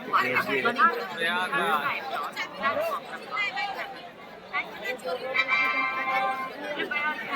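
Many voices overlap in a steady hubbub on a packed Prayagraj railway station during the Kumbh Mela, continuous close crowd babble with no single voice standing out for long.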